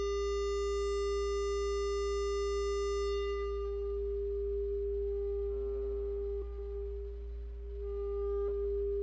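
A steady electronic square-wave tone built from evenly stacked harmonics, run through a North Coast Synthesis MSK 007 Leapfrog filter; the upper overtones fade away partway through, leaving a mellower hum with faint wavering partials.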